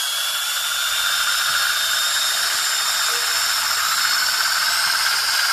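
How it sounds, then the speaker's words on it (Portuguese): An electric drill spins the shaft of a small wind turbine generator, giving a loud, steady high-pitched whine and hiss that holds constant throughout, with no talking. "E com o auxílio de uma máquina de furar, nós vamos rotacionar aqui o eixo da turbina eólica."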